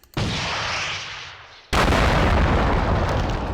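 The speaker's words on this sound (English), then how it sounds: "I think this looks like a missile launcher." An M202 missile launcher fires in the Minecraft Rival Rebels mod, two loud sustained roaring blasts, the second harsher and louder after a brief cut.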